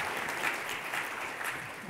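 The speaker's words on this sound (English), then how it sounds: "You can applaud for Brenda" A lecture audience claps briefly in a short burst of fairly quiet, even applause, with no voices over it.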